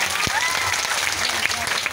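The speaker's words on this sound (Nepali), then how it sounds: "जोरदार ताली बजाएंगे कलाकारों के लिए।" An audience claps for performers at a devotional gathering, a dense burst of applause lasting a couple of seconds, close and steady.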